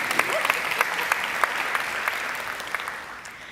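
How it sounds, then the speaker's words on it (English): Audience applause at a theatre event, sustained crowd clapping with distinct sharp claps standing out, steady then gently tapering. "Come on now, clap for Sister Jackson."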